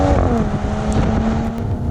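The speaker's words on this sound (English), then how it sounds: "What it also gets is a sports exhaust, which really gets the most out of the new 6-cylinder engine." Loud, close engine note of a 2020 Mercedes-AMG GLE 53 Coupe's straight-six with sports exhaust, a steady throaty hum holding under load with a smooth tone throughout, no talking.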